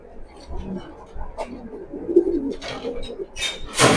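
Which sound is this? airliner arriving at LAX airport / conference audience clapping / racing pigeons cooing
racing pigeons cooing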